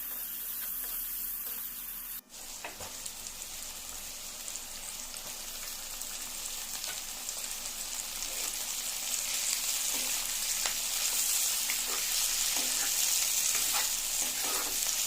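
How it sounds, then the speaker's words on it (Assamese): Leafy greens fry in a pan with salt and turmeric, a steady close sizzle with occasional scraping stirs, growing slightly louder after a brief bump at the start. "শাকখিনিত নিমখ ভালদৰে সোমাবৰ কাৰণে চাৰিওফালে ভালদৰে লৰাই লৈছোঁ।"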